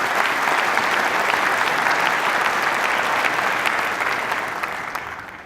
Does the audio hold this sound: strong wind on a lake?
no